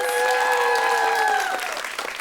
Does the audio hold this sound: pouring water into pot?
no